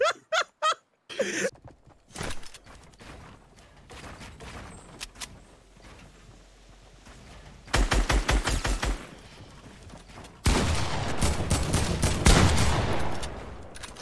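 Video game gunfire in Fortnite, including pistol shots: sharp isolated cracks early, a rapid burst of repeated shots in the middle, then a louder sustained stretch of firing and noise toward the end.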